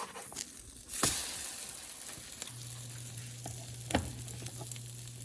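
French toast fries in a pan, giving a steady low sizzle with a few sharp clicks and scrapes from turning it, heard up close with no talking.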